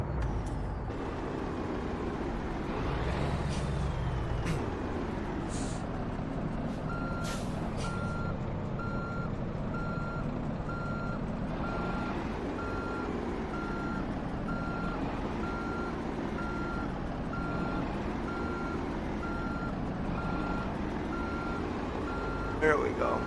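Truck in American Truck Simulator parking its trailer, with steady reversing beeps repeating over the rumbling truck engine and a hiss of air brakes, while people talk throughout.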